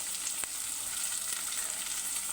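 Garam masala fries in a pan for sweet corn rice with a steady, dense sizzle and a single soft tap early on. No one speaks.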